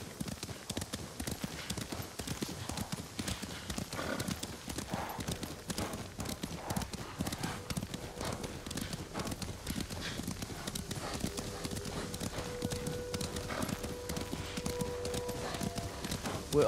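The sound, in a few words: horse hooves clip-clopping, from a video game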